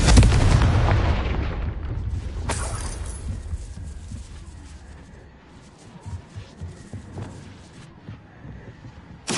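Explosive Confringo spell blasts in Hogwarts Legacy, a loud booming burst at the start followed by further crackling impacts and rumbling bursts that fade and then flare again near the end.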